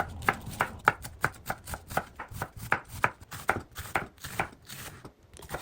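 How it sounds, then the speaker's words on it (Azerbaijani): Cabbage being chopped with a knife on a cutting board, a rapid, steady series of close, crisp thuds, about three per second, with no talk. "Kələmi doğradım."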